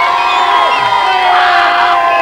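A crowd at a 1988 show in Cannes cheers loudly for MC Solar, with dense shouting, whoops and high-pitched voices filling the whole stretch at a constant, close level.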